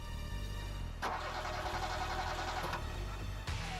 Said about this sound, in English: Starved of oxygen, the vehicle's engines sputter and die.